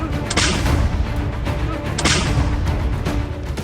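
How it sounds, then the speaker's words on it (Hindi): An M777 howitzer fires twice, each shot a sharp, heavy boom about two seconds apart, with a rolling rumble that lingers between and after the blasts. "यूक्रेन की फौज M777 तोप का इस्तेमाल कर रही है।"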